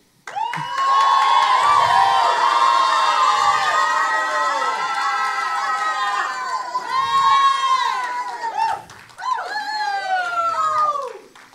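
A church congregation shouts and cheers with loud, sustained enthusiasm at a worship service, a dense wall of overlapping voices and whoops that dips briefly near the end before surging again.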